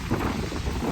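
Strong wind roars and buffets a microphone continuously in a snowy outdoor setting, a dense low rumble with gusty fluctuations and no voices.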